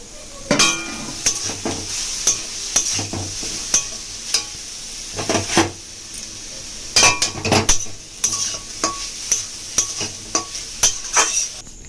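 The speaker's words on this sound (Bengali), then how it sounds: "ঘিয়ের মধ্যে এবার আমি নারকেলটা দিয়ে দেব।" Grated coconut frying in ghee over low heat, a soft sizzle beneath repeated bursts of a utensil scraping and clinking against the pan, coming in irregular clusters of stirring with short pauses between.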